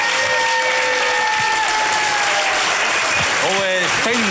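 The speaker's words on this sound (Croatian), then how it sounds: "Standing ovation. Standing ovation." A studio audience at a quiz show superfinal gives a loud standing ovation, with dense continuous clapping while a voice speaks over it and musical tones sound in the background.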